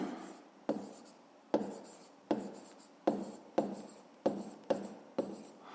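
Someone writes out an equation by hand for a fifth-grade maths exercise, a run of about nine sharp pen or chalk strokes, each starting with a tap and trailing into a scratchy drag, close and clear.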